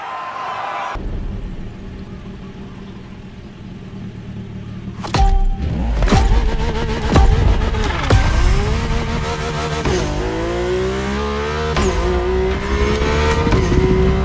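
An Audi R8 LMS GT2 race car in The Crew Motorfest video game roars loudly through repeated revving gear changes and rising engine pitch, with a thud and tire noise along the way and no talking.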